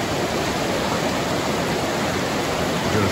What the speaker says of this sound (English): Joe's crossing Wallace Creek now.